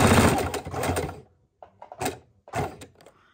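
Sewing machine stitching a fabric coffee cozy, running fast in a long continuous burst, then a few shorter stop-start bursts of stitching close by.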